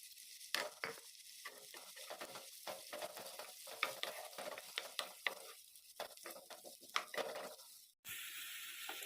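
Onions hit hot oil with fenugreek seeds in a pan, giving a soft, steady sizzle broken by frequent clattering spatula strokes and scrapes against the pan, quiet and close.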